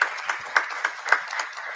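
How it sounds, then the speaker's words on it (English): At a university board of supervisors meeting, sparse clapping from a small number of people sounds in a steady, even rhythm of distinct claps, moderately quiet and without speech. "Where is President Jackson, Tony Jackson? Give her a round of applause."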